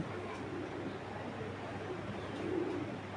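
A pair of pigeons, male and female, coo softly and low in a few faint, drawn-out murmurs, with the clearest coo near the end over a dull room hush.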